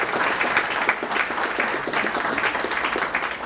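An audience applauds a community partner, the Community Services Agency, at a Mountain View city annual update: dense, steady clapping from a crowd that holds at an even level for the whole stretch, with no voices over it.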